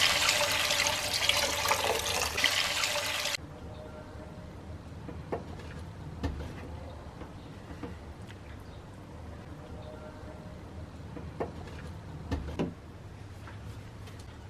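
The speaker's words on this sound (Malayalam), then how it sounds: "മീൻ മുങ്ങിക്കിടന്ന് വേവാനുള്ള വെള്ളം നമുക്ക് ഒഴിച്ചു കൊടുക്കാം" Water is poured into a pot of fish head curry, a loud broadband gush for the first few seconds that stops abruptly, followed by quiet kitchen clatter and faint knocks.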